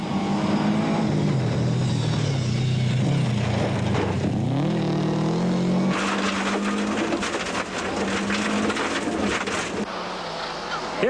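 A Toyota rally car finishes Stage 3 of the 2002 Tour Natal, its engine note rising and falling through gear changes, then a rougher, louder burst of revving in the second half, with a steady wind-like roar throughout.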